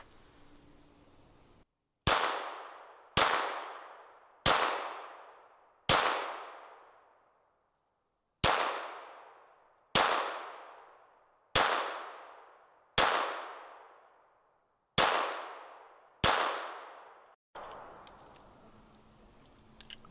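Gunshots are fired at a target one at a time, about ten sharp reports at steady intervals of roughly one to two seconds, each followed by a decaying echo, with no speech over them.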